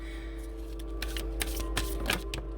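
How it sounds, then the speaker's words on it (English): Tarot cards are shuffled by hand in quick, uneven bursts of riffling and slapping, close and fairly loud over a low steady hum, with no speech. "I'm not shuffling good today, y'all, and I will admit it."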